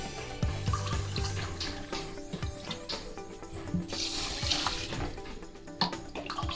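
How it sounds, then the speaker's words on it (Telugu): Water pours steadily from a glass into a pot over flax seeds before boiling, a continuous close splashing and gurgling that runs the whole time, with occasional clinks of the vessel. "సో ఇలా మనం లిమిటెడ్గా వాటర్ పోసుకొని"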